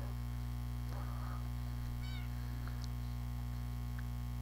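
A tamed Minecraft cat gives a couple of short, faint meows over a steady electrical hum, with small scattered game sounds and no talking.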